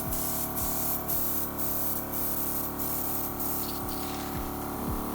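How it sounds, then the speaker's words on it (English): Steady hiss of an airbrush spraying cleaner through, close and fairly loud, with a faint rhythmic pulsing from a compressor at highest speed underneath. "turn your compressor on at the highest speed, and spray the cleaner through"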